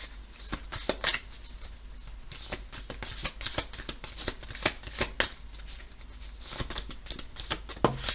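A deck of tarot and astrology cards shuffled by hand, a rapid run of crisp riffling flicks and slaps in uneven bursts, close and moderately quiet.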